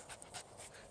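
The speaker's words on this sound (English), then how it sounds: "That's the dog." A dog pants close by in quick rhythmic bursts of breathy huffs, steady and moderately loud, with no talk over it.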